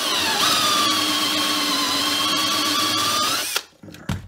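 A power drill cuts metal for clearance while an electric CFMOTO i30 3000-watt generator is converted from gas to propane. A loud, steady high-pitched whine runs for about three and a half seconds, then stops abruptly, leaving a few faint clatters.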